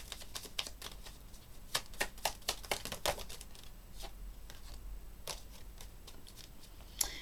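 Tarot cards are shuffled and drawn in a series of crisp, rapid riffling snaps and soft slaps, close and fairly quiet, with no voices.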